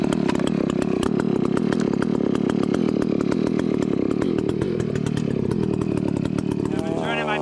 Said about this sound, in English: I'm turning my biggest saw up there. It's my 88, 50 inch bar, 120 cc's.